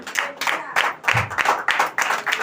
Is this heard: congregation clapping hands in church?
yes